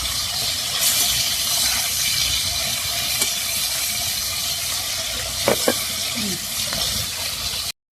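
Fish frying in a pan as it is stirred and turned with a spatula: a steady close sizzle with scattered scraping clicks, two sharper knocks near the end.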